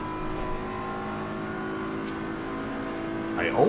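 A BMW M4 GT3 race car in an online sim-racing championship at Bathurst holds a steady engine drone, then rises into a quick rev and downshift near the end as a commentator talks over it.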